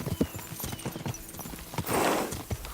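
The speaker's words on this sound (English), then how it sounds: "We should spur the horses on." Horses galloping in the medieval video game Kingdom Come: Deliverance 2, a steady run of hoof clip-clops under game ambience, with a brief rushing swell near the end.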